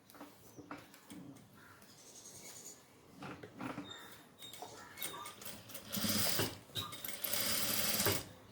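Sewing machine stitching a pair of shorts in a tailoring class, running in short bursts of rapid mechanical whirring and clatter that grow longer and louder toward the end, close up with no talk.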